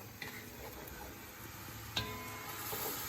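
Seasoned beef chunks searing in a pot for stew, a faint steady sizzle with a few soft clicks of a utensil against the pot, close by and without talk.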